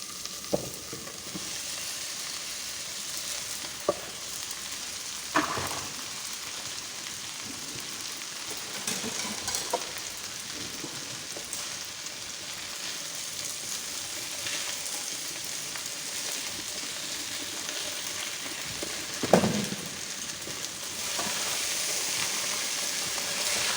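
Chicken and noodles for chow mein are tossed in a hot wok, giving a steady close sizzle with scraping stirs and occasional louder crackling bursts throughout.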